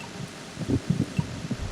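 Heartbeat effect from Metal Gear Solid 2, a steady run of soft low thumps in doubled beats repeating across the short clip, alone with no talk.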